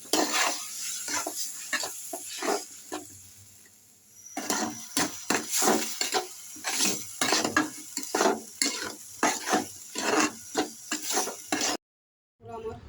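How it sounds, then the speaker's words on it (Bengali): Noodles with shrimp being stir-fried in a pan, with repeated scraping and stirring strokes of a utensil against the pan over a soft sizzle, fairly close and with no talk. "দিয়ে দিলাম নুডলস।"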